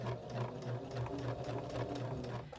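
A sewing machine runs a straight stitch across fabric with a fast, steady mechanical whir and rapid even needle ticks, close and continuous with no talking.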